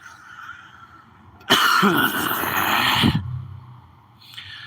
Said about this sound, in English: Coughing like you didn't give a fuck.